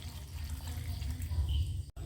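Water is poured into a cooking pan holding washed mushrooms for a Kerala-style mushroom stew, a steady close splashing and gurgling that runs for about two seconds before a brief cut.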